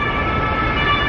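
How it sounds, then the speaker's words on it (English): A police car siren on a street in Germany sounds loud and steady, with its sustained tone droning over road noise. "There is never a day I don't hear this. All the time. Police cars."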